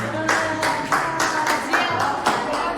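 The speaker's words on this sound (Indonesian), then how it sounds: "Oke, tepuk tangan dulu." Classroom clapping from students, a short run of rhythmic claps roughly twice per second, close and fairly loud, with faint voices underneath.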